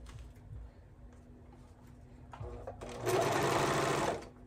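A sewing machine stitches the side seams of baby bell bottoms, beginning with a few light clicks and handling noises, then a loud, close, continuous run of about a second before stopping.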